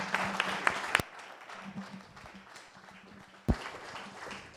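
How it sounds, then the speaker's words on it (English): A short burst of audience applause rises in a talk-evening crowd at an atheist community meeting in San Jose, dense for about a second before giving way to a quiet room with a single sharp knock later. "let's give him a round of applause"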